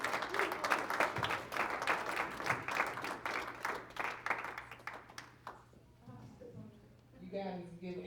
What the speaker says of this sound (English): You guys give Andy another round of applause.